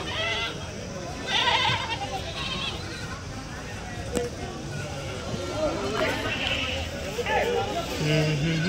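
Goats bleat repeatedly at a busy Tuesday livestock market in Kadiri, calls rising over a constant babble of buyers and sellers talking and haggling close by.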